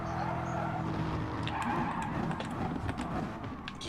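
Gran Turismo Sport Gr.4 race cars brake hard into a corner, tyres skidding and scrubbing over a continuous engine roar, with sharp bursts of squeal in the second half.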